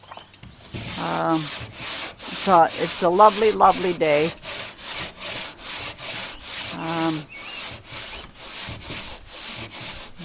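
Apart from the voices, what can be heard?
sanding a boat roof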